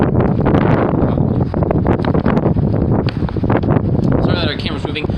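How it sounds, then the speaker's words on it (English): Strong wind buffets the microphone with heavy, continuous rumbling gusts throughout. "It's windy out. Very windy, actually."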